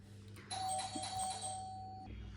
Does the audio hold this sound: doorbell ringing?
yes